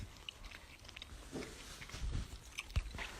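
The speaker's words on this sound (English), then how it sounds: "he's chewing again." Someone chewing candy, with soft, irregular crunching and biting sounds that grow a little louder toward the end, close and quiet over a faint background hiss.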